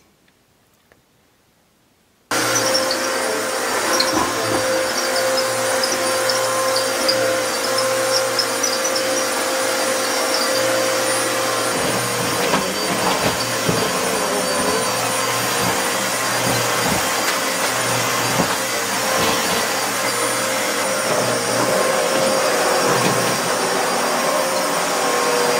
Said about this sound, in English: The main reason I came out here was to vacuum the floor